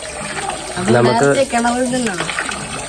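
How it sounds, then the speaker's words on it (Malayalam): Water gushing from a household supply pipe at a home without a well, a strong splashing flow with a person talking over it. "ഇങ്ങനെ നമുക്കിവിടെ പൈപ്പിൽ വെള്ളം വരും"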